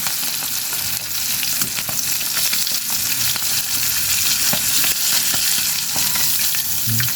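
Fish frying in oil in a pan for a Bicol-style dish, a loud, steady close sizzle with scattered crackles and pops throughout.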